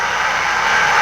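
Racing car engines roar together at the start of the 1955 Belgian Grand Prix, a dense, steady broadband rumble holding loud and even for a moment with no voices.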